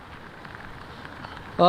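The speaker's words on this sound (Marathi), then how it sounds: "सकाळपासूनच आपण पाहतोय मुंबईत मुसळधार पाऊस पडतोय" Steady, dense hiss of heavy monsoon rain pouring down in Mumbai, with a voice starting to speak right at the end.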